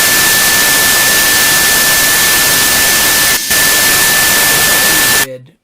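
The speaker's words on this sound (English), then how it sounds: "now we see the sine wave has nearly disappeared into noise" A steady, loud hiss of broadband noise with a thin, faint pure tone just audible beneath it, briefly cutting out once before stopping abruptly.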